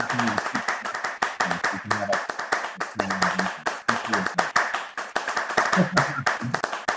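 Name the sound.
virtual clapping effect triggered by pressing C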